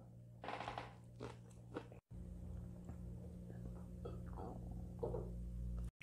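Crispy deep-fried chicken gizzards are bitten and chewed close to the mic, giving quiet crunchy bites and chewing sounds in short bursts, with a brief cut partway through.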